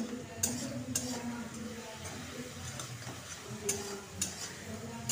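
Turmeric and coriander-cumin powder are sautéed and stirred in a pan for an egg poppy-seed curry: a soft continuous sizzle with occasional spoon scrapes and clinks, fairly quiet and close.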